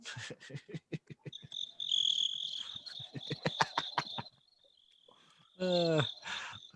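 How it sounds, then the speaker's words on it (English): Crickets sound effect played from a button: a rhythmic run of close, loud chirps that keeps going as a voice speaks over part of it, then a pause before another burst. "Do I have to hit the crickets button?"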